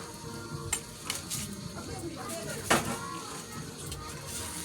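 Radish dropped into a frying pan with fried fish, oil sizzling steadily while a utensil stirs and clinks against the pan, a sharp splash-sizzle standing out, with a person talking over it.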